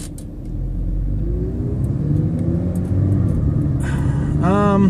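A car engine hums and rumbles steadily from inside the cabin while driving, rising slightly near the end as the engine pulls, with a voice heard over it.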